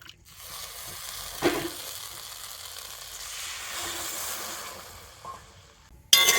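Cut sugar candy and half a bowl of water heat in a wok for syrup, a faint, soft sizzle rising and falling with a light clink early on and a sharp knock at the very end.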